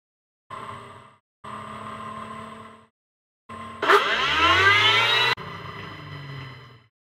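Electric brushless RC car motor on a MiniPro dyno, whining in three separate bursts; the third burst rises in pitch as it spools up to a loud high-speed scream, then settles back before cutting off.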